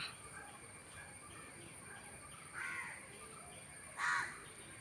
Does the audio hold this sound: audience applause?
no